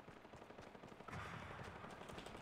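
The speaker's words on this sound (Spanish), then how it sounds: "Disparos, no los veo." Gunfire in the video game Fortnite, rapid bursts of shots, distant and fairly quiet, with no talk over them.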